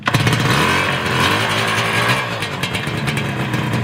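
A small motorcycle engine is kick-started and runs right away, a throaty idle with uneven revving, close and loud.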